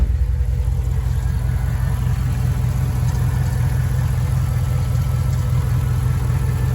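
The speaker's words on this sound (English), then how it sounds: "I'm gonna go outside and let y'all hear the engine first." A 2008 Jeep Grand Cherokee with the 5.7 Hemi V8 running, recorded close outside as a loud, steady, low idle rumble with no change in pace throughout.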